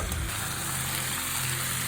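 Kachki small fish and vegetables fry in a pan for a chorchori, giving a dense, steady close sizzle and crackle that holds evenly without pause.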